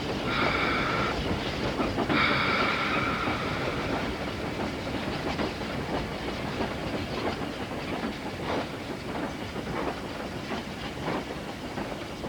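A steam locomotive coasts downhill on rails, braked only by its independent locomotive brake, with steady loud rumbling, hiss and recurring clickety-clack of wheels over rail joints, plus a brief high squeal near the start.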